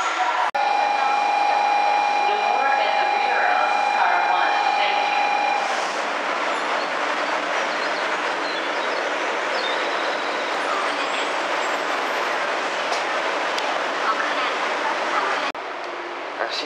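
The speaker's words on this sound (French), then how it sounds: "Un Shinkansen Hello Kitty qui vient d'arriver." A pink Hello Kitty-liveried Shinkansen 500 series train, eight cars running as a Kodama service to Shin-Osaka, draws into platform 14 with a loud, steady rumble and high whine, a faint tone fading midway and the noise dropping sharply at the end.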